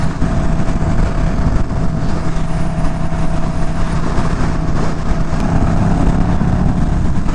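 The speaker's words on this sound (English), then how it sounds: "I love the way this engine sounds." A KTM Super Duke motorcycle with its exhaust muffler removed rumbles in a loud, steady, close drone while riding, holding an even roar with no speech over it.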